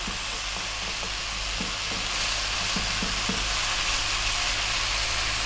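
Tomatoes for a mushroom curry sizzle and fry steadily in a pan, a continuous broad hiss with faint stirring scrapes, close and moderately loud, no talking.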